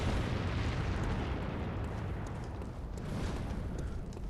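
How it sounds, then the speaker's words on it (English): Fireballs launched by an enemy in Bloodborne, a continuous roaring, rumbling blast with heavy low-end boom that stays loud and dense for several seconds without letup. "He likes to shoot fireballs at you."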